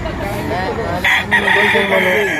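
A gamefowl rooster for sale at an outdoor market in Lipa, Batangas crows loudly and close by, one long strained call that rises over background chatter and market noise.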